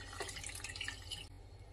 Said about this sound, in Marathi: याच्यामध्ये पाणी घालायचं आहे